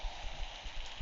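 Steady broadband rain hiss in a disaster-themed video game, dense and continuous like heavy downpour on surfaces, with low rumbling underneath and no talking.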